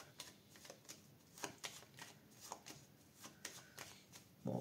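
Tarot cards handled and laid out on a table, a rapid series of soft close slaps and riffles, quiet overall.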